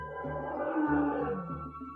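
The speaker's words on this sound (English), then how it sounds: "roared the lion" A lion roars in a children's story, a sustained, rumbling growl lasting about two seconds at steady loudness, heard alone without speech.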